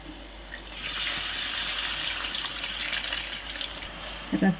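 Soaked tamarind pulp, about lemon-sized, squeezed by hand so its juice pours into a pot for Telangana-style fish curry: a steady soft trickle of liquid runs for several seconds, close by, with a few faint splashes at the end.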